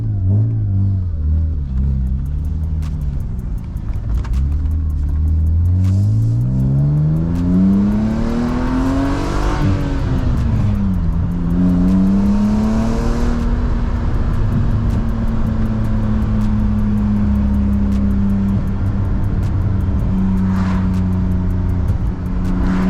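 A BMW E36 engine revs up close, its pitch climbing, dropping briefly, then holding at a high steady drone for a long stretch.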